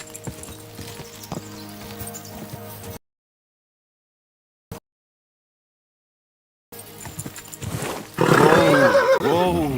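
A horse in the medieval role-playing game Kingdom Come Deliverance II lets out a loud, close whinny after a stretch of silence, preceded by quieter ambient sounds.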